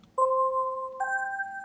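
Synthesized Christmas bells with chorus set to a 0 Hz rate: two clean sustained bell-like tones, the first struck at once and held, then a second pair entering about a second later, clear and close with no other sound.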